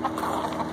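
Backyard chickens cluck faintly in a short, soft burst of low murmuring calls, heard alone without talk.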